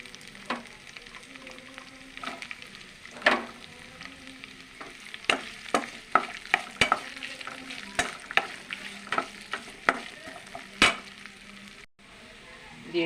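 Onions fry in a kadai over a continuous sizzle, with repeated sharp scrapes and clinks of a spatula stirring them. The sound stops briefly near the end.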